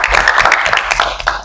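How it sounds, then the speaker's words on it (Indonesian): A group applauds for a student during a group guidance session in a classroom, a dense, steady patter of many hands, close and loud, lasting only a moment. "terima kasih tepuk tangan untuk April."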